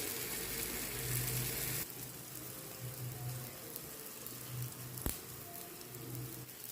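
Paniyaram batter made with palm jaggery cooks in a little oil over a low flame, giving a soft, steady sizzle with light patter. A brief sharp tap comes near the end.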